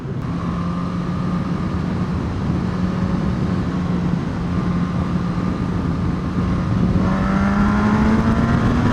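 A Suzuki GSX-S1000 motorcycle engine holds a steady loud drone, then pulls harder and rises in pitch near the end as it accelerates, with wind noise throughout and no speech.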